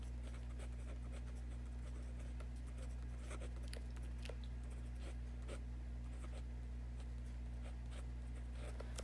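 A pen scratches across paper writing out a math solution set, a series of soft, close strokes over a steady low electrical hum.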